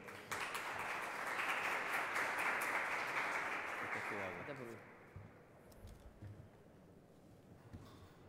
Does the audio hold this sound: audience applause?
yes